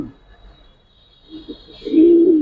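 A gira-baz pigeon coos nearby, a low soft rolling call rising toward the end after a quiet stretch with faint murmurs.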